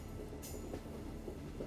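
A train running through dense jungle on an Indian route: a steady, continuous rumble of rolling wheels with faint clatter, heard from on board with no talk.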